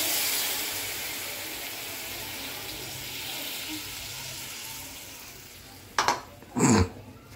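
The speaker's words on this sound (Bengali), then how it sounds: "বাবা, একদম জল দিয়ে দিচ্ছি।" Water splashes into a pan of hot spices near 6 to 7 seconds, two sharp bursts of hiss and sizzle over a steady frying crackle, with Bengali fish curry spices, garam masala, green chilli, tomato, ginger, garlic and onion cooking.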